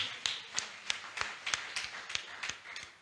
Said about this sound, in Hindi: ताली बजाकर धन्यवाद दीजिए।